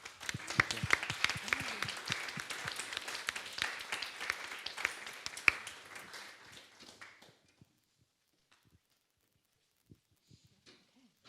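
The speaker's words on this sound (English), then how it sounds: "Give a big clap." Scattered applause from a small audience after a talk on AI, God and immortality, a patter of individual claps for several seconds that thins out and stops, leaving near silence with a few faint taps.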